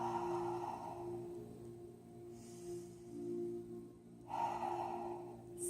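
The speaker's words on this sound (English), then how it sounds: "letting it be Ujjayi, breathing in through the nose," Slow ujjayi yoga breathing, drawn in through the nose with a constricted throat, with two soft airy breaths a few seconds apart over a faint steady hum.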